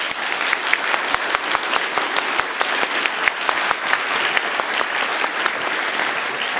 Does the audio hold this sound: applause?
yes